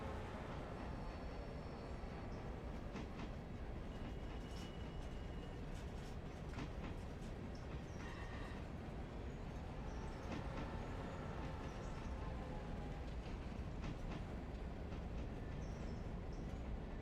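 A train runs on rails in the railway game Railroader, a steady low rumble of rolling stock with scattered clicks and metallic squeaks over a long stretch, faint and continuous with no talk.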